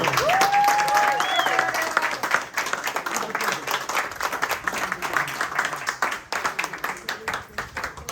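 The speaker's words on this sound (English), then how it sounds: "let's give him a round of applause" An audience claps loudly and continuously at a speech by General Michael Flynn, with a few scattered whoops over the steady applause.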